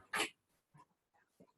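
A dog gives one loud, sharp bark up close indoors, followed by a few fainter snorts and whimpering sounds in an otherwise quiet room.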